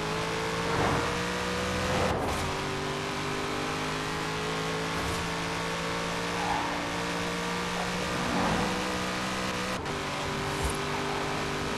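An Aston Martin engine in the Forza Horizon 4 racing game drones steadily at a fairly constant pitch throughout, with a few faint swells and brief clicks, moderately loud and with no talking.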